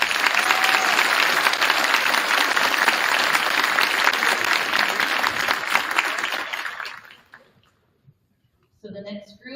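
Audience applause at a middle school academic recognition ceremony, a dense, loud wash of clapping that holds steady for several seconds before fading out, followed by a brief voice.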